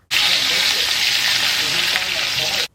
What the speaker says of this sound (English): I'm going to sear each side for at least 4 minutes